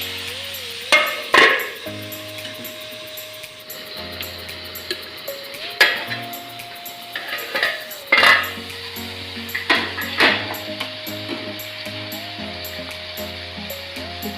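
A spatula chopping and stirring chicken in a metal cooking pot, with repeated sharp scraping clanks at irregular intervals over a faint sizzle and background music.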